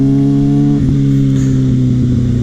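A 2016 Kawasaki ZX6R 636 sport motorcycle engine revving hard at high RPM, a loud close steady whine that briefly dips and then climbs back up, with no voices.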